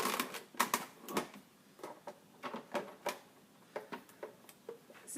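A Cuttlebug die cutting machine cranking a die sandwich through its rollers gives a run of irregular, close clicks and ratcheting knocks at moderate loudness, with no other sound.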